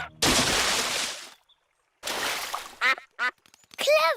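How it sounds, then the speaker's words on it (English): A cartoon splash into a duck pond comes as two loud broadband bursts of water, followed by several sharp, close duck quacks. "What was that big splash?"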